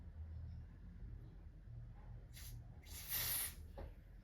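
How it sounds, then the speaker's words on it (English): Short hissing bursts from an aerosol can of glamour spray, two brief sprays then a longer, louder one, close by with no talking. "I'm just going to be applying 2 layers of glamour spray"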